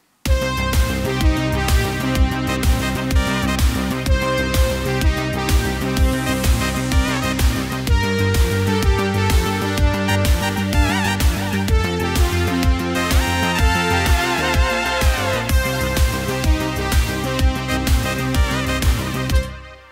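Roland JX-8P synth lead with pitch bends and modulation playing a track over a steady pulsing electronic backing, loud and continuous with a regular rhythmic beat throughout.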